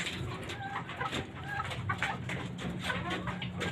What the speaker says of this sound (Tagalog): I'm gonna show you some of our chickens here at the rooftop.